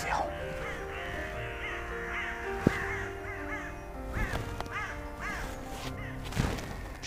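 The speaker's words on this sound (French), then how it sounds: "les corneilles elles font beaucoup de bruit" Crows caw repeatedly from several directions in the French countryside during a wildlife stakeout, harsh calls in irregular bursts at moderate distance, with a sharp knock or two and low murmured talk in the background.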